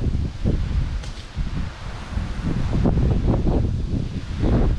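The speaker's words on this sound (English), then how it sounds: "It's pretty windy up here." Strong wind on an exposed hilltop trail through a Costa Rica coffee farm, a steady blustery rumble buffeting the microphone with rustling gusts throughout, no voices.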